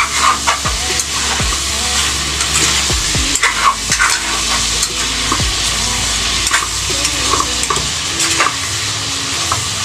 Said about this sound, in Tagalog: Haluin ulit natin. Para manuot yung sarap, yung namnam.